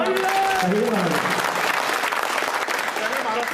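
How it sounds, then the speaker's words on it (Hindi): Crowd at a 2024 Lok Sabha public rally in Shadhaura clapping steadily, dense applause that starts under a voice and carries on alone. "ताली बजाओ।"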